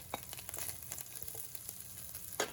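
Turkey bacon frying in a pan with no added oil, giving a soft, steady sizzle with scattered crackles and pops, fairly quiet and close, with a brief louder burst near the end.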